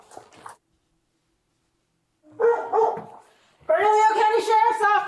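Dog barking indoors, likely kenneled inside a house during a sheriff's welfare check: a few sharp barks and yips arrive in bursts near the end, close and fairly loud, after a brief voice at the start.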